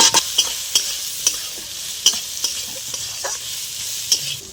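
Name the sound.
frying onions with salt and red chilli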